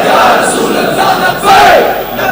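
A large crowd at a religious and political rally roars a slogan in unison, loud massed voices in two surging bursts.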